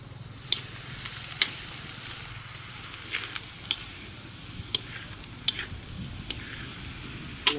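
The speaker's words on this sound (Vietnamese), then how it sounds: "Lấy nồi khác chiên thêm mỡ đổ vào." Pork fat frying in a pan gives a steady, moderate sizzle with scattered sharp pops and crackles spaced irregularly throughout, close by and without talk.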